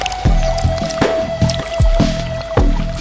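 A male mudskipper scoops mouthfuls of mud, giving repeated wet squelching and sucking splats roughly every half second, close and fairly loud over a steady hum.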